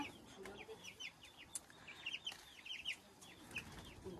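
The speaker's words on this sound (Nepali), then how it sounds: "अनि उड्नु खोज्दैछ हाम्रो चल्ला त" Several chickens cluck and chatter in quick, scattered bursts, faint and somewhat distant, with short pauses between calls.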